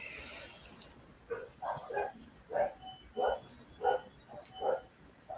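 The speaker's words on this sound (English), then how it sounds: "I hope you can't hear all my dogs barking." Several dogs bark in short repeated bursts at a distance, spaced roughly every half second to second, faint against a quiet background.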